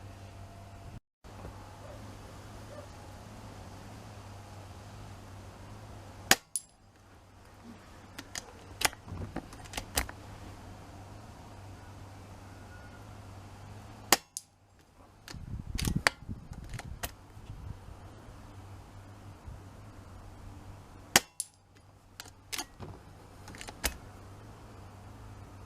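Long range rifle shots ring out at an outdoor shooting range on a windy day, several sharp cracks spaced seconds apart over a steady background hum and wind noise.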